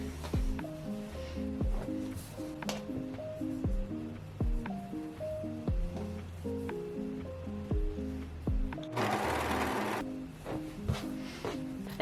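Sewing machine stitching the sleeve and side seams of a knit sweater: a rapid, regular mechanical needle rhythm in repeating bursts, close and fairly quiet, with a brief hiss near the end.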